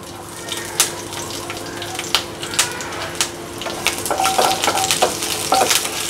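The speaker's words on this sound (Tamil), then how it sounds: "இப்போ எண்ணெய் காஞ்சிச்சு இதில் பச்சை மிளகாயும் கருவேப்பிலையும் ஆட் பண்ணிக்கிறேன்" Green chilies and curry leaves hit hot oil in a pan, crackling and popping in sharp, scattered bursts over a constant sizzle, growing denser and louder toward the end.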